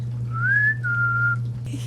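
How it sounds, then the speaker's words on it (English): A short two-part whistle, rising then holding steady, sounds over a constant low electrical hum. "The whistle worked."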